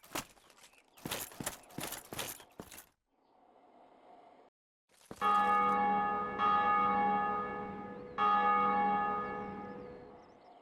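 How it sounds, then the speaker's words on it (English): After some clattering steps and a quiet stretch, the Bell of Awakening in a Souls video game rings out in three loud, resonant church-bell strikes whose long ringing tails overlap. "When you defeat the Gargoyles and ring the Bell of Awakening, it rings not only out in the cutscene in your world"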